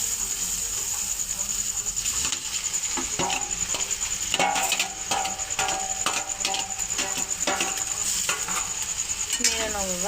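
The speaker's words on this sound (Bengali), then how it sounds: "নেড়ে নেব এবার।" Chow mein ingredients are stirred in a pan, with repeated metallic scrapes and clinks of a utensil over a constant frying hiss and a high steady tone, close and busy throughout.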